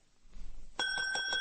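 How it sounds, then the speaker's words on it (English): A shop counter bell rings once in a radio drama, a bright metallic ding with a lingering ringing decay after a short stretch of quiet shuffling. "There was a bell on the counter."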